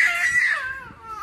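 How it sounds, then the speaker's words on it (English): A toddler cries and wails in a steady, high, sustained whine that trails off and softens near the end, heard close at a restaurant or plaza in Santa Fe, New Mexico. "That's the sound of a toddler wanting to run around."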